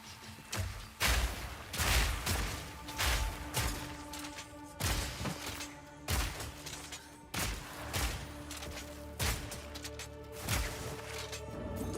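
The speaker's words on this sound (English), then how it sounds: "Give them what spiders deserve: explosions and buckshot." Shotgun blasts and explosions in Path of Exile 2, fighting spiders: a steady series of heavy booming shots, roughly one per second, each with a sharp crack and rumbling tail, loud and close, with no talking.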